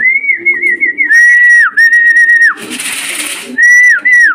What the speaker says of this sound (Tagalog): Ayan na mga kalapatids.